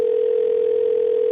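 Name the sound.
telephone ringing on a radio phone-in call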